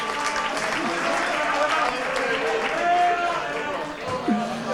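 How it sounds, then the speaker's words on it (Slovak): Audience applause for the organizers at a pub quiz championship evening, a dense steady wash of clapping under loud crowd noise and overlapping talk and cheering throughout. "A potlesk organizátorom Marekovi Aďovi."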